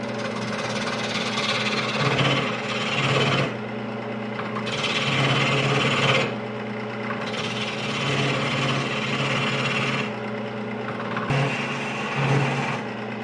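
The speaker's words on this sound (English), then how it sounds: "I'm going to switch to my spindle gouge." A spindle gouge cuts into a spinning workpiece on a wood lathe during multi-axis eccentric spindle turning, giving a continuous close scraping hum that swells and eases in rhythmic passes every few seconds.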